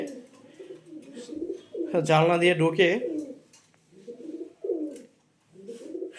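Pigeons kept indoors by a window give a loud, throaty burst of cooing in the middle, with softer coos scattered before and after while a person talks nearby.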